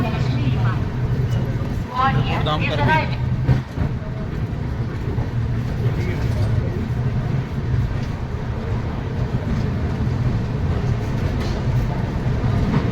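A moving Howrah-Agra Cantonment express rumbles steadily from inside the train, a constant low roar with faint rattles, and a voice speaks briefly near the start.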